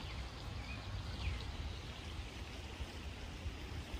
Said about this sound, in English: Right over there, you got a little river.